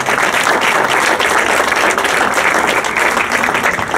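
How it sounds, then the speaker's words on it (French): Audience applause at the opening of a festival, a steady, loud, close wash of many clapping hands that runs unbroken throughout. "Alors on applaudit"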